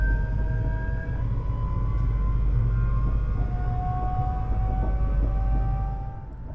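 Steady rolling rumble inside a Dutch intercity train, heard from a seat above a powered bogie, with sustained whining electric motor tones gliding in pitch over the continuous low drone.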